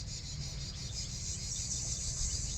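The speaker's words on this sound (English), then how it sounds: "You can hear the cicadas behind me" Steady, dense cicada buzzing fills the air without a break, a continuous high-pitched drone with a low rumble beneath, recorded in France in July.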